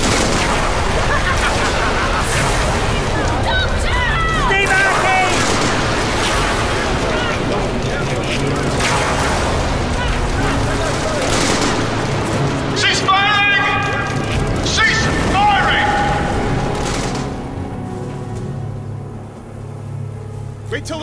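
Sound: soldiers' gunfire volley, audio drama sound effect

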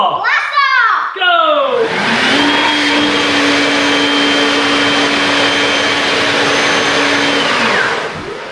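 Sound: homemade hovercraft fan motor running

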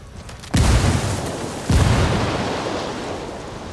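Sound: frag grenade explosion in the video game Ghost Recon Wildlands Ghost War

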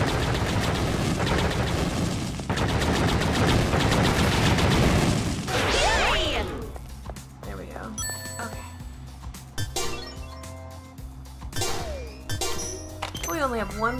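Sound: gunfire from video game Ultra Despair Girls

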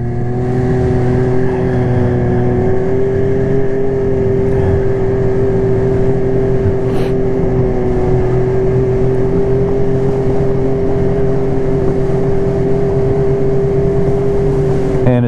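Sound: snowmobile engine running

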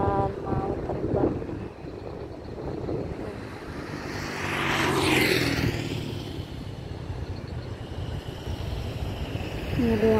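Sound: airplane about to take off at Soekarno-Hatta Airport

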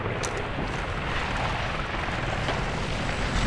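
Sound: helicopter flying overhead in video game Medal of Honor: Warfighter

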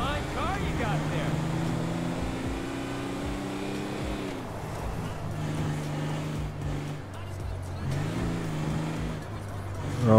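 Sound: car driving in GTA V video game

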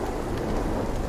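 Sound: thunder during storm in video game Sons of the Forest

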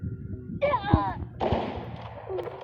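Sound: gunfire in the video game Free Fire

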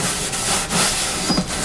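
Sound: light sanding of guitar wood with 1000 grit paper

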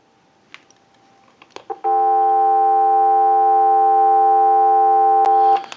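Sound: telephone dial tone

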